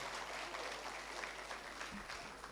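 An audience at a TEDx event applauds a speaker as she returns to her seat, a continuous wash of clapping from a large room, even and fairly distant.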